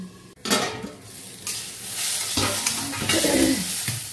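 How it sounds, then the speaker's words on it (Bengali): Ginger and chili frying in a pan give a close, loud sizzle broken by several scraping stirs of a utensil against the pan, with no voices. "এই যে আদা লঙ্কাটা ভাজা ভাজা হয়ে গেছে।"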